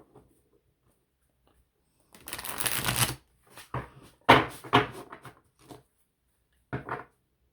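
A tarot card deck being shuffled by hand, with several bursts of riffling and flicking cards that stand out clearly against quiet gaps and no talking.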